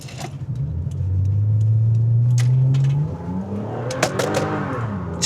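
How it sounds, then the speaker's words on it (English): Third-generation Toyota Camry spinning its tires, the engine revving into a loud rising drone that holds for a couple of seconds, then easing off while tire and road noise carry on. "Just spinning the tires."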